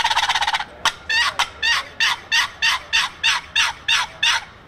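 A turkey gobble imitated on a box call opens with a quick rattling trill, then gives way to about a dozen evenly spaced, sharp calls, loud and close with nothing else heard.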